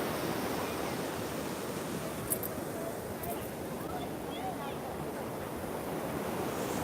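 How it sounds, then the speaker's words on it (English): Ocean waves at a beach, a steady broad wash of surf with wind buffeting the microphone, continuous and fairly loud, with a person's voice faintly present. "See the waves? Pretty good waves."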